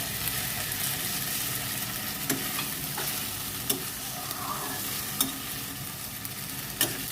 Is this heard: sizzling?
yes